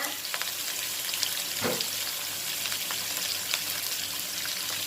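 Chili peppers stir-fried in a pan for a stir-fry with beans and pork, giving a steady close sizzle and crackle throughout, with a few louder spatula scrapes and stirs standing out.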